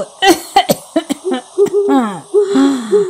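Someone coughs and wheezes in a rough series of short throaty bursts and strained, rising breaths, close and loud with brief pauses between them.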